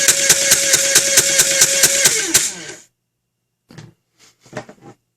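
An upgraded Nerf Stryfe blaster runs its flywheel motors at 7.5 volts, giving a loud, rapid string of rhythmic clacks over a motor whine. The motors then wind down into silence, followed by a few faint clicks.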